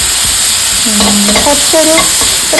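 Carrot for payasam is sautéed in a pan, giving a loud, close, steady sizzle with scraping stirring strokes and a few short tonal squeaks from the utensil, with no talking.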